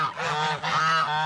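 Geese honk nearby in two or three loud, nasal calls back to back, with no other sound.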